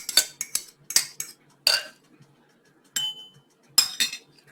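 A utensil mixes bacon, peppers and onion in a bowl for a ramen noodle frittata, making bright metallic clinks and scrapes in uneven bursts separated by short quiet gaps.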